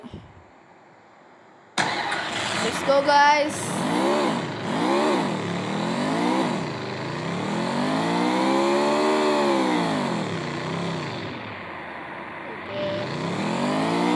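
A vehicle engine in the Free Fire battle royale game starts up abruptly, then revs and drives on with rising and falling pitch through repeated gear-like surges, loud and close, with brief talk at the start.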